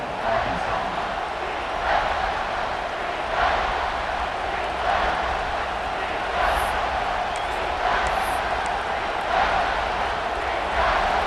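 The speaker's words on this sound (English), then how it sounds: "this crowd is at fever pitch" A roaring stadium crowd in EA Sports College Football 26, a loud sustained wash of cheering and noise with periodic swells, while a commentator talks over it.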